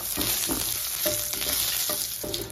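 Curry leaves hit hot oil in a pan for a spicy chicken curry, crackling and spitting in a dense, continuous sizzle with repeated sharp pops, close and fairly loud.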